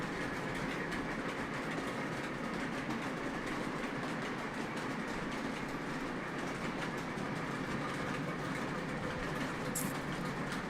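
A train rolls past in a steady, continuous rumble, with rhythmic clickety-clack from the wheels on the rails and a brief squeal near the end, heard alone.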